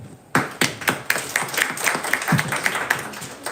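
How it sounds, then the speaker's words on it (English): A tech event audience at AGI House gives a short burst of applause, a few loud distinct claps standing out over lighter scattered clapping nearby, lasting only a few seconds. "do applause for everyone"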